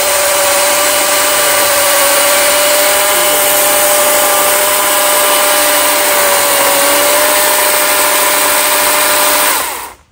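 A steady, loud mechanical whine of a saw cutting through a large yew tree, continuous for about ten seconds before stopping abruptly.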